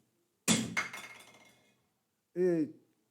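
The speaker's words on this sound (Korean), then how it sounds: "가득 차 있으면 소리가 별로 이렇게 나지도 않고 그냥 묵직한 소리 하나 나잖아요." A full container is dropped, landing with a dull, heavy thud followed by a brief rattle, then a short burst of voice-like sound near the end.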